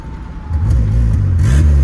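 Volkswagen Parati GL turbo engine revving up close, a deep throbbing idle that swells into loud repeated blips of throttle with rising and falling pitch.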